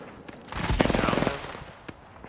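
Machine gun fire in the battle royale shooter Apex Legends, one fast rattling burst of about a second, fairly loud, followed by a couple of faint isolated shots.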